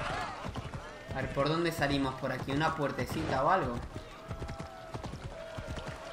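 Horse hooves clip-clop at a galloping pace in Assassin's Creed Odyssey, steady and close throughout, running beneath someone talking in Spanish.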